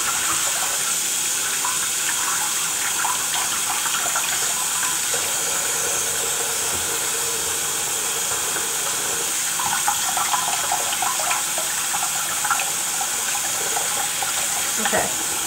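Warm water runs steadily from a bathroom tap while hands are rinsed of soap suds, a continuous close splashing stream with small shifts as the hands move under it.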